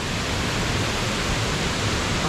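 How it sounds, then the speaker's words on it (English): Powerful waterfall in Falkirk, a dense continuous roar of rushing water with no breaks, loud and alone. "But it's a pretty magnificent waterfall."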